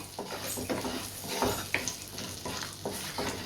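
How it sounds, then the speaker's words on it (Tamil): Whole cinnamon, cloves and cardamom sauté in oil over a low flame, giving a steady soft sizzle with faint stirring scrapes and occasional crackles, close by and without talk. "இதை வந்து ஸ்டவ்வை லோ ஃப்ளேமில் வச்சு நல்லா வதக்கி விட்டுடுவோம் நல்லா பொரிஞ்சு வந்து வரட்டும்"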